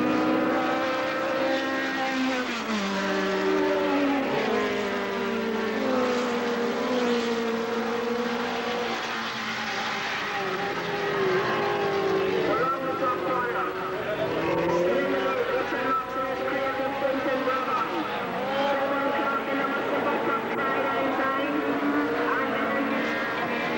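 Classic racing cars circle the Wallerfield circuit in Trinidad, rounding the bottom hairpin bend. Their engines hold a steady roar throughout, with pitch sweeping up and down as they pass.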